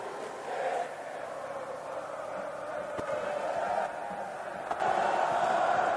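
Steady crowd roar from a couple of thousand spectators at a rugby championship final at Twickenham, a broad, distant wash of voices with a small swell near the end.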